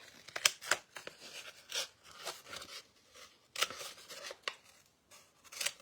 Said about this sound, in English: Cut this star out.